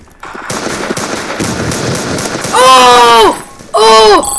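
Rapid bursts of shotgun gunfire from the Roblox game Poly Guns, dense popping shots through the first half, then two loud sustained harmonic blasts later on, all fairly close and loud, with a voice talking alongside.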